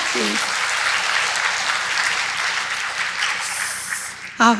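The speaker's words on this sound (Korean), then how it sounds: "우리 주님께 한번 박수 한번 쳐드리고" Congregation applause during a Sunday afternoon church service, a full steady wash of clapping from many people, tapering slightly before a brief voice cuts in at the end.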